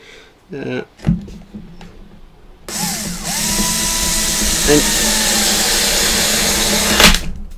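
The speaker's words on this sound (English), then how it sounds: "you want to make sure you've got the screwdriver the right way around" A powered screwdriver drives screws into ceramic while a false water cobra enclosure is set up. A brief voice and a couple of knocks come first, then a loud, steady whirring drone runs close by for several seconds.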